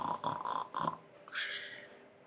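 A storyteller imitates Santa Claus snoring, giving several rhythmic snorting inhales followed by a longer breathy exhale, close and fairly loud.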